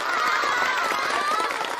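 A whole class of students claps together in an animated Chinese period drama, dense, steady applause filling the room at close range for the full moment.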